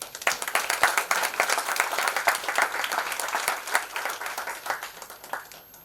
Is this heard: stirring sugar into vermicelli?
no